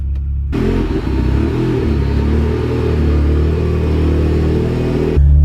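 A Ford Sierra Sapphire RS Cosworth is driving, heard from inside the cabin as a steady, loud engine drone with deep rumbling road noise, continuous and without speech.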